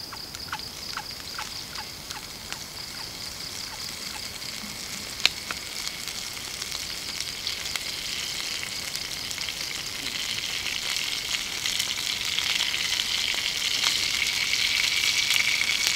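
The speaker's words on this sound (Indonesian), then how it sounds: "Nah, kita tuangkan minyaknya." Cooking oil poured into a pot over a lit flame at an outdoor campsite, frying with a steady bright sizzle that swells and grows louder toward the end, with a few small clinks early on.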